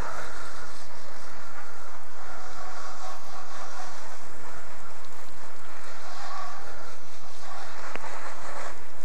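Water sprays steadily over a motorcycle during a rinse, a continuous hissing wash of droplets that stays even and close with no pauses or talk.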